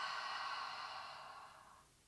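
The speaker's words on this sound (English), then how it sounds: "Exhale." A long, slow exhale during a yoga practice, breathy and close, fading gradually over about two seconds in a quiet room.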